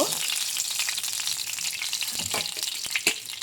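Chopped onions frying in oil in a pan for a hilsa-tail mash, a bright, crackling sizzle close by with occasional stirring clicks.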